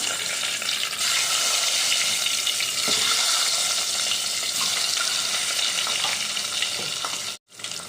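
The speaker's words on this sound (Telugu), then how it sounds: "ఆయిల్ హీట్ అయిందండి ఇప్పుడు ఎగ్స్ వేసుకుని ఫ్రై చేసుకుందాం" Eggs frying in hot oil with turmeric for a mango egg curry, a loud steady close sizzle with a few soft stirring sounds, cutting out abruptly near the end, no talking.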